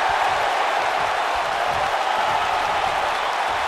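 A wrestling arena crowd at a Survivor Series elimination tag match roars and applauds in a dense, steady wash of cheering, loud and unbroken for the whole stretch with no distinct voices standing out.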